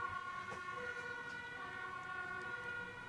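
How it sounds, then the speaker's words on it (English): An emergency vehicle siren sounds outside on a nearby main road, a steady wailing tone that persists at moderate volume through the whole stretch against constant traffic hum, with no voices. "I'm listening to the quite different siren that you have over there."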